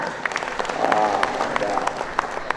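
Officials, department heads and village leaders gathered at a West Java assembly applaud together, a dense sustained clapping of a large crowd with a few sharper individual claps standing out, while a voice carries on over it.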